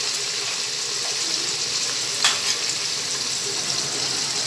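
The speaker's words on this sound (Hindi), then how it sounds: "ये ऑयल जो है तकरीबन 1 कप मैंने डाले हैं, इसमें मैं गोश्त डाल दूँगी नरम होने के लिए।" About a cup of oil sizzling with meat being softened in it for an Iranian khoresh. The hiss is steady and broadband throughout, with one brief louder crackle.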